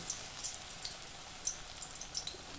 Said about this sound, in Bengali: এবার আমি একটু কম কম করে ভাজবো